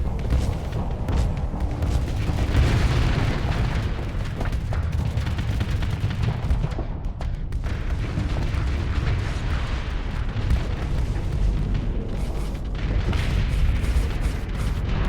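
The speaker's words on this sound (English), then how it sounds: "They are just exploding so quickly." Ships blow up one after another in Starsector space combat, a sustained, loud barrage of booming explosions and rumbling blasts rolling on for about fifteen seconds without speech.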